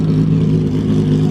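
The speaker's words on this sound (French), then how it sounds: "Moteur de Formule 1." A Ferrari F50 with its Formula 1-derived engine idles and revs with a loud, steady, low mechanical drone, close by and with no talk over it.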